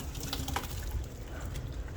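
Hot rice water poured off to strain cooked rice, a quiet gushing, splashing stream of liquid with small bright spatters, steady and close for a couple of seconds without talk.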